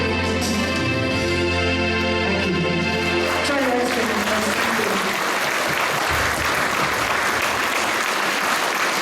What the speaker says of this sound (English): Give her a big round of applause there, ladies and gentlemen